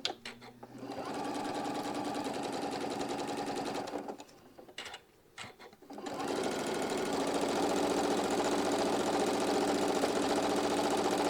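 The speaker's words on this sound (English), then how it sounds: "Go to the sewing machine. We're going to get these stitched." A sewing machine sews a 1/4 inch seam around pairs of fabric circles placed right sides together. The motor hums steadily and close, pauses with a few brief stutters midway, then resumes a long, even run.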